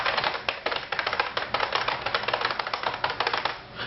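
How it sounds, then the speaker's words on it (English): Rapid, continuous clatter of keys struck on a loud, hard computer keyboard, close and crisp, with irregular bursts of keystrokes and no voices. "that's just a loud keyboard"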